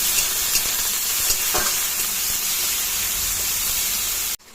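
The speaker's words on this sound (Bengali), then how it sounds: "এবার আমি দিয়ে দিচ্ছি এখানে পেঁয়াজ, আমি গ্রেট করে রেখেছি, সেটাই দিয়ে দিচ্ছি।" Grated onion dropped into hot spiced oil for a fig curry, giving a loud, dense, continuous sizzle and hiss close up, steady until it cuts off abruptly at the end.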